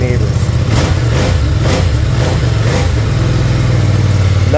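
A 2023 Ducati Streetfighter V2 motorcycle engine is revved nearby in repeated loud throttle blips that rise and fall over a rumbling idle, with a voice talking over it.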